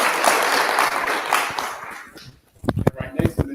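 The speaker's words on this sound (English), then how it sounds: "So let's give a warm round of applause." Warm applause from an audience at a town hall symposium, steady and dense for about two seconds, then fading out as scattered voices and a few sharp taps take over.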